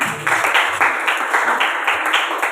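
A classroom of students clapping for a classmate, a steady, bright and fairly loud patter of many hands with no voices over it.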